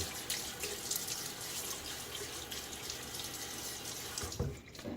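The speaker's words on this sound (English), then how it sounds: "Throw a little water on my face." Tap water runs steadily into a sink at close range and is splashed onto the face before a wet shave, a continuous rushing stream with a brief louder splash near the end and no talking.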